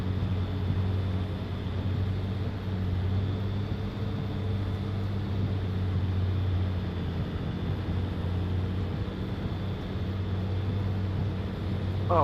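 A tractor engine in Farming Simulator 25, the tractor fitted with a front loader, drones with a steady low rumble that stays level and unbroken throughout.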